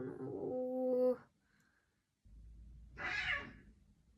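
Pet cats meowing up close: one drawn-out tonal meow, a pause, then a second rougher, breathier cry, with no one talking.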